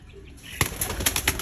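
Several quick bursts of wing flapping from pigeons taking off nearby, following a quiet stretch with faint background sounds.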